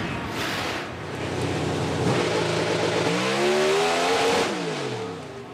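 A Pro Stock drag race car accelerating hard at Englishtown in a semifinal, its engine a loud, steady roar that rises in pitch through the gears, heard alone without voices.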